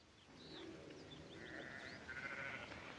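Sheep bleating on open ranch land in an old western setting, several thin wavering calls rising over a steady outdoor rumble, moderately close, with no talk.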